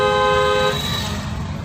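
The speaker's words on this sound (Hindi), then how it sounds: "अभी बढ़ा लीजिए स्पीड, हॉर्न।" A single sustained car horn blast sounds loud and close for under a second on a busy single-lane road without a divider, then cuts off, leaving engine and traffic rumble.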